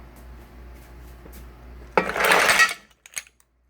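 Cooked clams tossed with lentil spaghetti in a creamy sauce in a pan, heard as a short burst of clattering, scraping and sizzling that lasts under a second, then a few quiet clinks. The surrounding kitchen is quiet.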